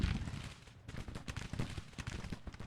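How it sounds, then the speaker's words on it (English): Parrott rifle artillery and musketry in a Civil War strategy game at Bull Run, a rapid, uneven series of sharp reports and booms, some closer and louder, with no talking over them. "move them across to the left to join the Parrott rifles there, which are getting some shots off"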